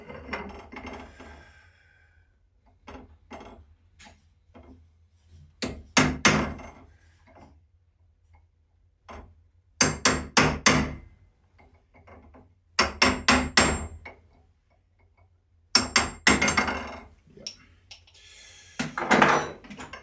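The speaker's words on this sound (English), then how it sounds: "Big hammer, works every time." A big hammer strikes metal in a workshop while parts for a five-axis CNC machine are being made: clustered sharp ringing blows in groups of three to five, separated by quieter pauses with lighter taps.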